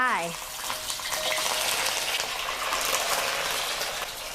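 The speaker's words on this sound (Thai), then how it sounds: "ใช้ไฟกลางๆในการทอดนะคะปลาช่อนค่ะ ใส่ลงไป" Snakehead fish frying in hot oil in a pan over medium heat, a loud continuous sizzle and crackle that starts just after the fish goes in and holds steady throughout.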